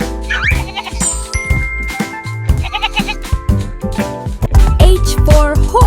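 A goat bleats loudly several times in quick succession, with light jingling and chiming sounds mixed in close by.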